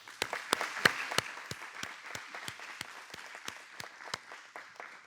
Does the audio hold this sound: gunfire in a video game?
no